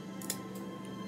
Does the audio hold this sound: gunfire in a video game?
no